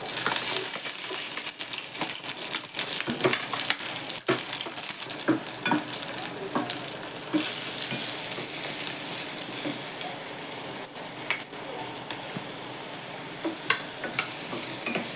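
Garlic and chilli fry and sizzle in a pan for a winter leafy vegetable dish, a dense, steady crackle close up, broken by sharp scrapes and clinks of a spoon stirring throughout.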